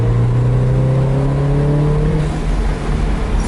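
A Toyota MR2's engine hums steadily and loud close by, with a rising harmonic whine as it revs up smoothly and then levels off, with no talking.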